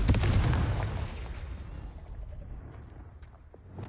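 A Confringo spell explodes in Hogwarts Legacy, a loud booming burst at the start that rumbles and fades into a low, lingering tail.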